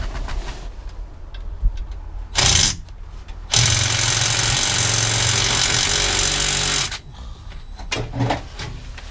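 Sawzall reciprocating saw cutting through the floor of a junkyard car, a loud steady burst of about three seconds preceded by a short buzz and followed by clanks and rattling.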